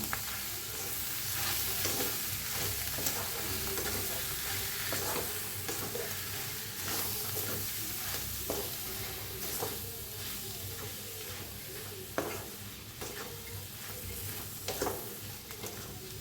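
Potato bhaji for vada pav is stirred in a pan with sugar, salt and coriander. A continuous sizzle is broken by repeated scraping spatula strokes, close and fairly clear.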